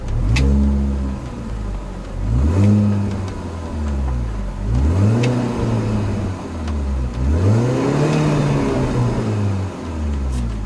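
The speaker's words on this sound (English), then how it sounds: "I'll just have it running here. I'll give it a few revs for you." The supercharged engine of a 2004 Mini Cooper S R53 idles, then revs up and down in four distinct swells, each climbing in pitch and falling back.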